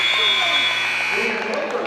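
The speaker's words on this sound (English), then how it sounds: "Jada Soybert with the layup at the buzzer" At a girls' high school basketball game, a loud electronic buzzer sounds at the end of the first half, a steady tonal blare that fades toward the end beneath crowd noise and an announcer's voice.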